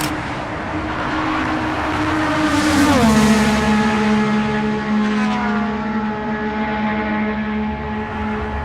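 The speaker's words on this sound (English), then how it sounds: "I've done a couple full throttle flybys with the Yamaha R9 featuring the Yoshimura AT2 full system exhaust" A loud Yamaha R9 sportbike at full throttle roars close by, its pitch dropping sharply as it sweeps past, then a steady lower drone trails off into the distance.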